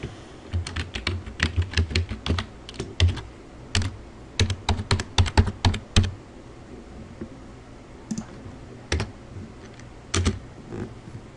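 Fast typing on a computer keyboard while entering a document name, with close, crisp key clicks in quick bursts, a short pause, then a few more scattered keystrokes, no talking.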